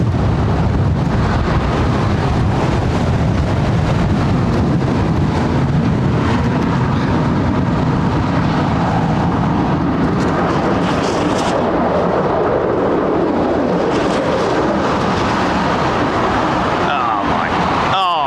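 A deep, continuous rumbling roar with gusty wind buffeting the microphone, loud and steady throughout, from the wake vortex behind a passing aircraft at London Heathrow Airport.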